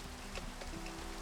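Steady rain patters at night in Minecraft, a soft continuous hiss with faint droplet ticks, low and even throughout without any voices.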